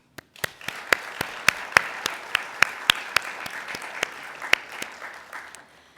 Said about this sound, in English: So please join me in thanking and applauding Tim and our remarkable United Way team